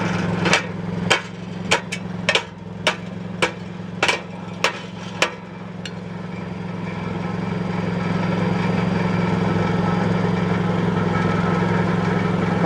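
A car engine idles with its exhaust heat shield held by hose clamps, first under about nine sharp, evenly spaced metallic knocks, then as a steady, close hum that swells slightly with no talk.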